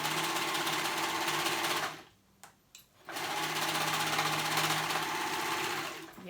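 A sewing machine runs fast, stitching a kids' preppy polo shirt, with a loud, steady mechanical whirr that stops for about a second midway, then resumes at full speed until the end.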